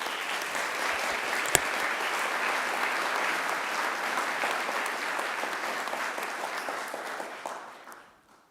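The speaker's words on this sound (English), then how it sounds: "A big round of applause to all of us." A graduation ceremony crowd applauds the graduating class, dense steady clapping that holds evenly before thinning and fading out near the end.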